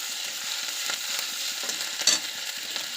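Garlic and ginger paste with green chilli fry in hot oil, a continuous bright sizzle with faint irregular stirring scrapes and one sharper clink, steady and close with no one talking.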